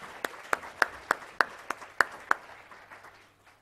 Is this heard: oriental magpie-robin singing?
no